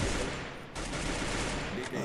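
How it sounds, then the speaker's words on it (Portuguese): Rapid bursts of video game gunfire crackle continuously over a dense, noisy background, with a brief dip partway through before the shooting resumes. "Caralho, Jefão, deu um tiro, viado."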